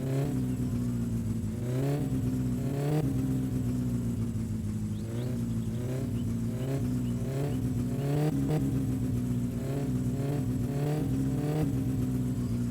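Car engine in My Summer Car revving repeatedly in loud, close surges that rise and fall over a continuous rumbling idle, the distributor slightly out of tune, with no voices.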